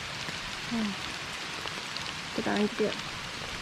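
Rain falls steadily at a solo campsite as darkness sets in. It makes a soft, continuous hiss and patter, and a person speaks briefly over it.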